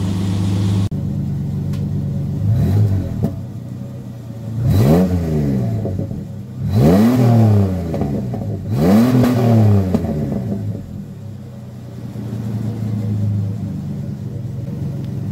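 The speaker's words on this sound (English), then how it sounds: "How's those V6 noises?" A 2005 Ford Ranger V6 with a worn-out clutch and reworked exhaust idles with a low rumble, then revs in about four separate surges that climb and fall back, loud and close.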